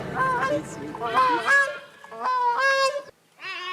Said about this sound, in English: This is a song of the gray-crowned crane, the national bird of Uganda.